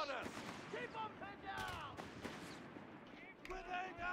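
Machine gun fire crackles in a Company of Heroes 3 skirmish battle, quick gunfire bursts and thuds mixed with other battle noise while players talk over it.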